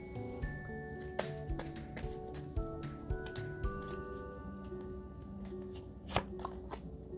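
Tarot cards are shuffled by hand in a quiet room, a soft continuous riffling with repeated crisp snaps and taps, close and fairly faint, no voices.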